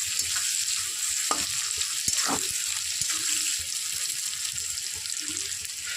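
Chopped onion tossed into hot oil sizzles steadily for a fish-head and Katoa data stalk dish, with brief clinks and stirring sounds over a constant bright frying hiss.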